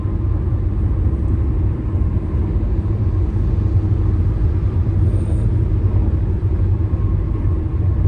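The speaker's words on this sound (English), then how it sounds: "Well, the traffic's not quite bad here." Constant road rumble and engine drone from inside a vehicle on the highway between Pauls Valley and Oklahoma City, with a steady wash of passing traffic and no talking.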